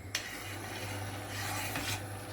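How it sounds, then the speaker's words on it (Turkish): Steady scraping of a spoon stirring sugar syrup in a metal pot, with a low hum underneath and a couple of sharper clinks. "Şimdi karıştırıyorum şekerim eriyene kadar."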